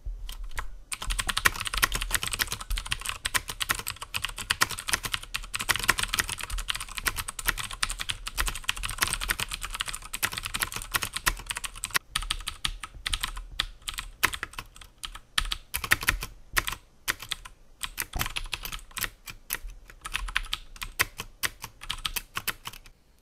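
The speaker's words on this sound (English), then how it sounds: "you will definitely be able to hear the audible click, and as I bottom out, you'll get the clickety-clack sound" Rapid, close-up clattering keystrokes on a clicky mechanical keyboard, a dense continuous run of sharp clicks and bottoming-out clacks that thins into looser bursts toward the end.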